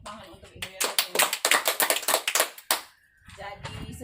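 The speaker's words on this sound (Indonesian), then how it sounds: "Mari kita tepuk tangan untuk Ibu Yosefina." A small group at a classroom training session claps in a burst of quick, uneven applause for about two seconds, close and bright, then fades as a voice begins speaking.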